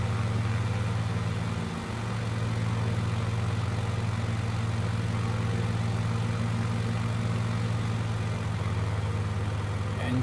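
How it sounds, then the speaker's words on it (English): A small plane's engine drones steadily in Microsoft Flight Simulator, a loud, even hum that holds nearly constant throughout, with a faint dip in pitch partway through. "Engine's getting a little stressed."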